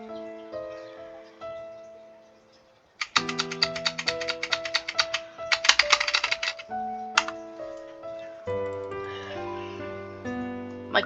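Rapid, dense clicking of computer keyboard keys during a video game, a flurry of quick taps over tonal game music.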